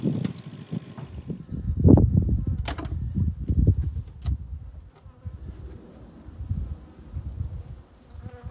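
Honey bees swarm and buzz around lifted heather honey hives, a steady droning hum with louder close passes of individual bees rising and fading over a low background rumble.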